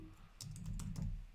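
A handful of quick keystrokes tap out a command on a computer keyboard, faint and close, in a brief irregular patter.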